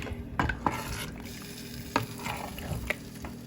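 Blended pepper water being added to a pot of vegetables for Liberian jollof rice, soft splashing and stirring with a few clinks against the pot and faint sizzling underneath.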